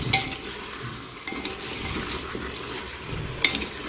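Spices stirred and frying in a cooking pot on a stove for Algerian harira, a soft steady sizzle with a few light scraping clinks of the spoon against the pot.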